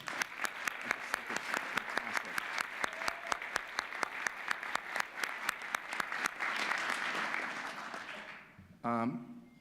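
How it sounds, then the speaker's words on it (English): A luncheon audience applauds with steady, dense clapping that carries on for several seconds before tapering off, followed by a brief voice near the end. "Could we get a round of applause for that?"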